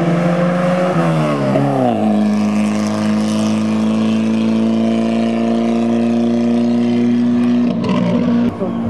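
A classic 1950s-era Opel GT with a 1900 engine at a vintage car event, loud and close, its engine note rising and then holding a steady drone before shifting again near the end.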